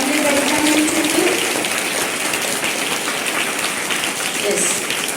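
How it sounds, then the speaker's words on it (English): A school audience claps to welcome a visiting lecturer before a Vedic maths lecture, a steady dense patter of hands throughout, with faint voices mixed underneath. "Claps."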